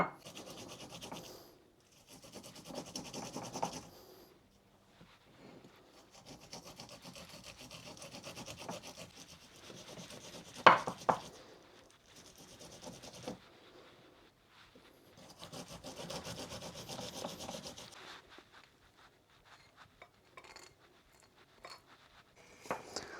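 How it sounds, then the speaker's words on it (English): Garlic grated by hand while preserving a home harvest, a rough rasping scrape in uneven bursts with pauses between, close and fairly quiet, with one sharp knock partway through and no talking. "I'm gonna grate my garlic."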